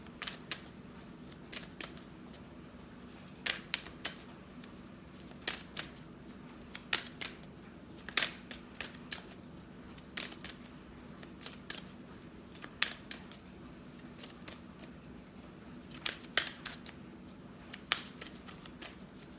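Fairy oracle cards being shuffled by hand, producing repeated soft crisp riffles and snaps in irregular bursts over a quiet room background, with no talking.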